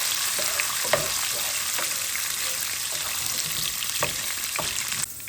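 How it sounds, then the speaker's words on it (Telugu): Peanuts and chana dal fry in hot oil, a steady broadband sizzle with scattered pops and stirring clatter throughout, close and fairly loud, ending in a quieter tail after a sudden drop near the end. "ఈ పల్లీలను శనగపప్పు మంచిగా వేయించుకోవాలి, క్రిస్పీగా రావాలన్నట్టు."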